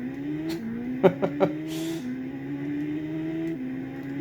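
Car engine revving in the PS2 racing game Noble Racing, a steady synthetic engine tone stepping up and down in pitch through gear changes, with a few short sharp clicks partway through.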